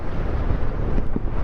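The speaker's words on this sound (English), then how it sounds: "there's a wind coming off there, David" Wind blows in off the sea, a steady loud rumbling buffet across the microphone with no speech, waves likely mixed into the broadband roar.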